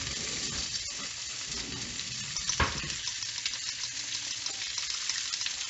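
Eggs with salt and green onion sizzle and are stirred in a hot pan, a steady close crackling fry with light scraping of the utensil and one sharper clack partway through.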